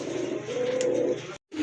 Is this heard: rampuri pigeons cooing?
yes